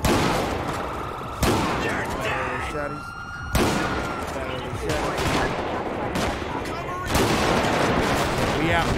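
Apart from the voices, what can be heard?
gunfire in video game GTA V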